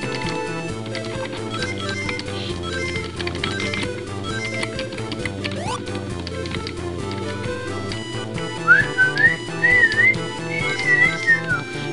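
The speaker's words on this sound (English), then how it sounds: "Curse me for even whistling the tune for this thing." Someone whistles the Sonic Marble Zone tune in short trilling phrases over in-game music from Sonic on the Genesis, the whistle rising clearly in the final seconds.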